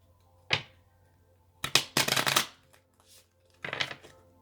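A deck of tarot cards is shuffled close by in short, crisp riffling bursts: a quick single flick, a longer rattling run, then another brief burst, separated by quiet gaps with no talk.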